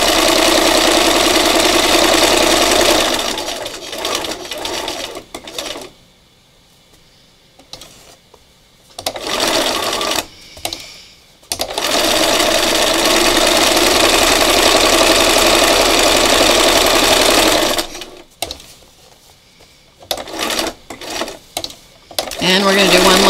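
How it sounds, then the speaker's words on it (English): Sewing machine doing free-motion stitching on fabric, loud close mechanical whirring in long bursts with several pauses between runs and brief clatter in the gaps. "you can experiment and learn what your sewing machine will do."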